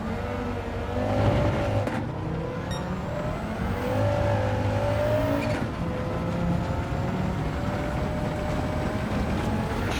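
A 788hp MK1 Volkswagen GTI race car laps the Nordschleife in Gran Turismo 7, its engine droning steadily, rising and falling in pitch as it shifts gears and works through corners, with no talk over it.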